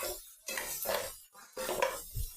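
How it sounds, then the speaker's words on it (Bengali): A spoon scrapes and clinks against a pan while spices with turmeric powder are stirred, two or three short bursts of metallic scraping separated by brief pauses, quiet and close. "মশলাটা একটু নেড়ে চেড়ে নিতে হবে"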